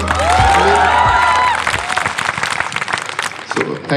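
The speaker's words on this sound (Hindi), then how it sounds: "एक बार रजत के लिए तालियां मार दें" Stand-up comedy audience in Chandigarh clapping and cheering for the host Rajat; dense applause with whoops, loud at first and thinning after a couple of seconds, while someone speaks over the tail end.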